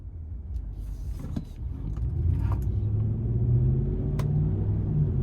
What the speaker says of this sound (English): So starting the test drive in this lifted Ram, you know, it doesn't ride as smooth as, you know, a typical Ram would.